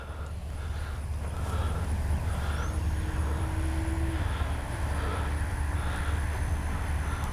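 A Durafly FG-1 Corsair RC model airplane flies at full throttle, its electric motor and propeller giving a loud, steady, continuous drone heard outdoors against a constant background roar.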